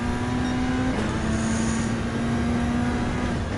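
A Group B rally car engine in Gran Turismo 7 drones loudly and steadily at high gear, a constant sustained tone with a slight pitch dip near the start, no talking.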